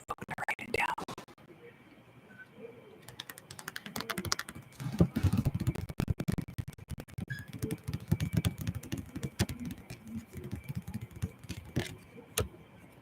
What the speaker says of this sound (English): I'm just typing stuff into my phone today